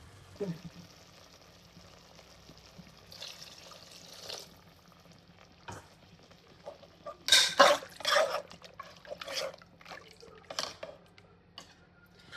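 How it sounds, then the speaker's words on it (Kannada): Water is poured into a cooking pot for a mushroom dish, two glasses of water per glass of grain, giving a few close splashing, gurgling bursts midway after a quiet stretch with faint clinks. "1 ಗ್ಲಾಸ್ಗೆ 2 ಗ್ಲಾಸ್ ನೀರು ಹಾಕ್ಕೊಳ್ತೀನಿ"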